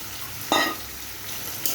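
Four duck eggs being sautéed in a spiced masala in a pan, a low steady sizzle with one sharp stirring scrape early on and a faint clink at the end.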